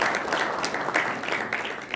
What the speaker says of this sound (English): let's give Kajol a big round of applause